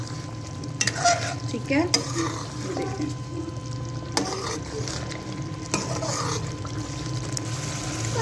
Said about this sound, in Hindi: अब इसकी आप भुनाई कर लें,